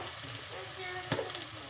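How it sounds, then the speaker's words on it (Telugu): Onion, cumin and garlic frying in a pan for keema: a steady soft sizzle and hiss throughout, with a brief stir or clatter near the end. "చూడండి, బాగా ఫ్రై అయిన ఆనియన్, జీలకర్ర, వెల్లుల్లి అన్నీ"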